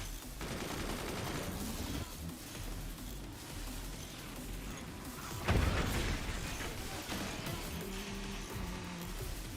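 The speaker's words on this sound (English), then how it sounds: "Hear the cannons flying at him." Cannon volleys in the Forts RTS game, a dense, continuous barrage of booming shots and crashes with a louder impact burst near the middle.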